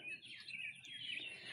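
Small birds chirp and tweet outdoors in a steady, fairly faint chorus of high, overlapping calls, continuous across the moment with no talking.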